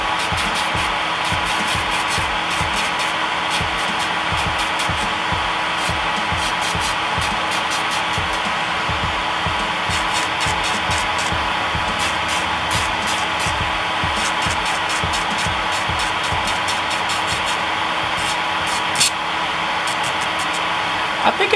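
Pelcas cordless electronic nail drill running at power level two with a medium sanding band, a steady close whirring hum with rapid repeated grinding pulses throughout.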